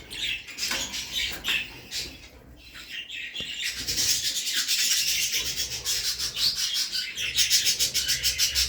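Jumbo budgerigars chatter and chirp in a pet shop in İzmit, a dense, continuous twittering of many birds close by, with scratchy rustling among the cages and no talk.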